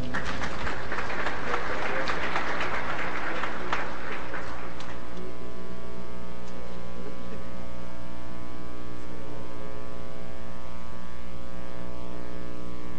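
Audience applause at the closing ceremony of a national geography and environment convention, a loud burst of clapping that dies away after about five seconds, leaving a steady electrical hum in the hall.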